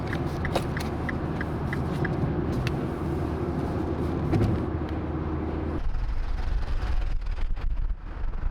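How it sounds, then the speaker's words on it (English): A car being driven to parking in London gives a steady, low engine and road rumble throughout. The drone thins and changes character near the end as the car slows. "Just parked the car, we made it."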